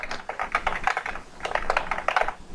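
Steady, fast typing on a computer keyboard while a file name is entered, with close, continuous clicking keystrokes and no talking.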